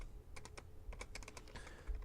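Fingers typing code on a computer keyboard, a quick irregular series of faint, close clicking keystrokes, some in rapid clusters, over quiet room tone.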